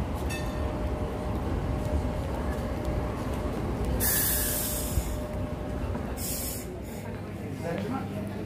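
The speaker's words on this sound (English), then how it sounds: "Here comes the tram." A tram arrives at a Sheffield stop, a steady rolling rumble with brief bursts of bright hissing, likely brakes or air release, heard amid street ambience while people talk nearby.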